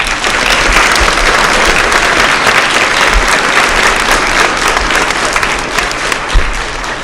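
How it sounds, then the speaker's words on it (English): Loud, sustained applause from a crowd at a school Memorial Day service, dense and continuous for the whole stretch with a few low thumps. "So give her a round of applause."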